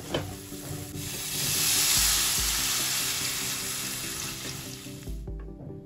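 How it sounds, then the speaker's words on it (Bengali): Water pours into a pan of hot, fried spice paste for a hilsa and eggplant curry, raising a loud, steady hiss that swells and then slowly fades before cutting off, with no talking. "এবার আমি এর মধ্যে জল দিয়ে দেবো।"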